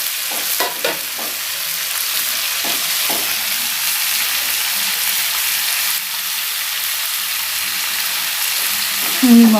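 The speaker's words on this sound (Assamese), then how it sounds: "অকণমান ভাজি ল'লোঁ।" Potatoes and raw papaya sizzle and crackle steadily in hot oil in a pan for goat mutton curry, with occasional stirring scrapes and a constant close frying hiss.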